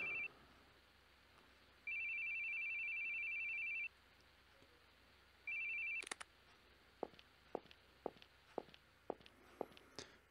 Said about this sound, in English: I certainly hated hearing the sound of phones.